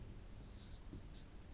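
Pen or chalk writing during an electromagnetic field theory lecture, two short scratchy strokes over a quiet roomy hiss, with no talking.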